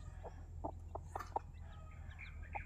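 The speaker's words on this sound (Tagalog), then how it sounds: "Hindi pa marunong masyado tumuka yung mga sisiw." Young chicks and a hen on a farm, several soft clucks and chirps spaced through the moment over a low steady background hum, fairly faint.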